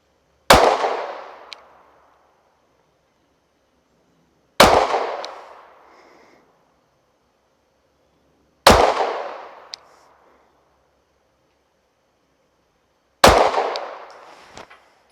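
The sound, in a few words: gunshots from Mossberg MC2sc pistol at 25 yards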